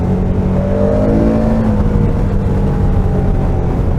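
A stock-exhausted 2021 KTM 1290 Super Adventure R engine revs steadily and close up, its pitch sliding down and then holding at a smooth, loud drone with no voices over it.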